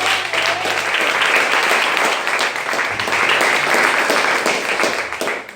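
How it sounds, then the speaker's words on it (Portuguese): A church congregation applauds during a service, with a broad wash of many hands clapping at steady, fairly loud volume for several seconds. "Quantos podem aplaudir a Deus?"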